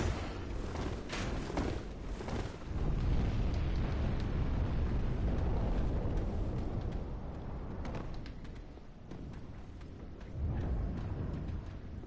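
Exploding bolts going off in the video game Unpatched Souls 3, a run of heavy booming bursts with rumbling low end, loud and close, swelling again near the end over a dense, roaring background.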